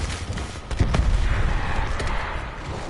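Gunfire in the video game Call of Duty Black Ops 4 while shooting zombies, a dense burst of rapid shots and impacts at steady loudness.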